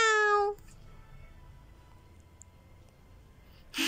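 A loud, clear kitten meow at the very start, then near silence with a faint hum, and another meow cutting in at the end.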